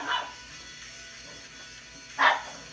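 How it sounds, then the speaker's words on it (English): A dog gives two short, sharp barks, one at the start and a louder one near the end, separated by a quiet stretch of indoor room tone. "Oh, she's barking."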